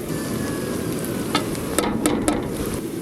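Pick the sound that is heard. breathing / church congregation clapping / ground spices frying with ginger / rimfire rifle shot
ground spices frying with ginger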